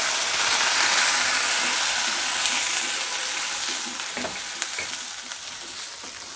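Onion paste hits hot oil with whole cumin seeds already in the pan, giving a loud close sizzle and hiss with a few scraping stirs and a clack from the spoon, and no talking.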